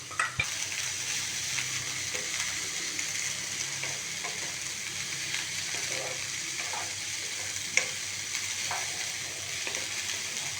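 Cooked green gram being stirred into a frying thoran pan, with a steady bright sizzle throughout and soft scraping stir strokes plus an occasional light clink of the spoon against the pan.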